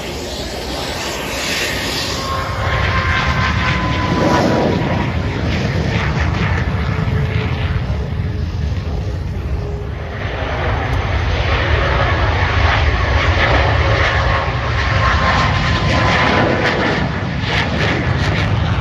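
A propeller airplane engine is started and runs steadily at close range at the EAA Oshkosh airshow, a loud sustained drone with wind noise over the microphone.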